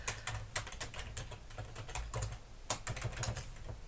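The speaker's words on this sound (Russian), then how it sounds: "Это все я печатаю лог." Rapid, irregular clicks and clacks of typing on a computer keyboard while coding a programming project, close and fairly clear, with short pauses between bursts and no talking.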